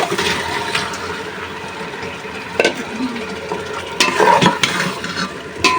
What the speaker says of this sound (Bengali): মশলাটা ভালোভাবে কষায় নিলাম এখন কলিজার ভেসপাগুলো দিয়ে দিই